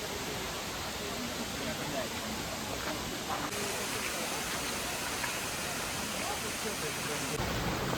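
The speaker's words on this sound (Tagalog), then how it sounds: "The Bilikislap Great Waterfall is the highest waterfall in" The Great Waterfall at Plitvice Lakes, Croatia, sends out a steady, dense roar of falling water that fills the scene without a break.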